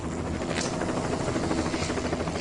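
A helicopter hovers near a high-voltage power line, its rotor producing a steady, continuous throbbing drone close and loud.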